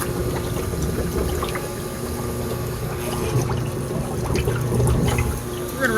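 A MemPro 350H reverse osmosis unit's pump starts up with its suction line drawing from water, giving a loud, steady watery hum and rushing flow that holds throughout without speech.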